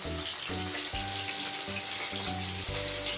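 Bata fish frying in a pan, a steady, dense crackle and sizzle that runs unbroken from start to finish at close range, with no voices.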